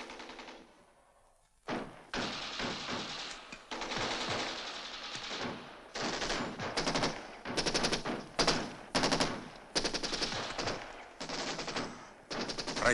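Machine guns fire in a film battle scene, with loud rapid bursts of automatic gunfire repeating in rattling volleys after a brief quiet opening, close and intense throughout.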